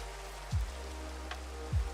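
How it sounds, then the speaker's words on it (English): Soft, steady rain falls throughout a cozy cottagecore video game scene, a constant hiss of patter with two brief low thumps and no voices. "Ooh, it's raining."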